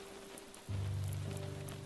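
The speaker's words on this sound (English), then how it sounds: "listen to the sound of the rain" Steady rain patters onto a surface, starting up suddenly partway through and then continuing evenly and fairly softly, with no one talking.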